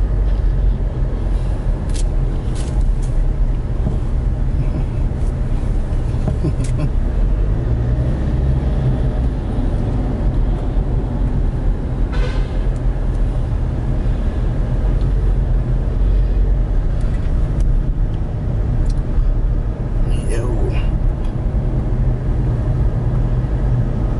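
A car driving at night through Cebu City traffic around Fuente Osmeña, a steady engine and road rumble with passing traffic noise throughout, no talk.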